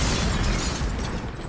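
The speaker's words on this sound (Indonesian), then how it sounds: "Seni gue adalah ledakan." Explosion sound effect: a loud, dense burst of roaring noise that stays heavy for over a second and then begins to thin out.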